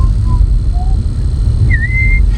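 A few short whistled notes, then a longer sliding whistle, aboard a sailing boat over a loud rumbling background of wind or engine noise.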